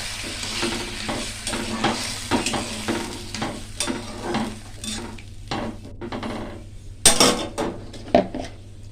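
Potatoes sautéing and stirring in a pan, with a steady frying sizzle under repeated scraping and clinking of a utensil against the cookware, fairly close and busy throughout.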